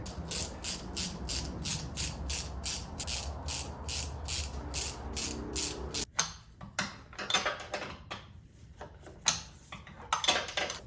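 A ratchet tightens spark plugs on a Saab 9-3 2.0T engine: about six seconds of fast, even clicking, then slower, separate clicks and clanks of tool work close by, with no talking.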